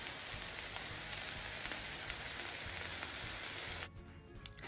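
Thyme and green onions sautéing in a pan for barbecue meatballs, a steady dense sizzle that holds at an even level before cutting off abruptly near the end.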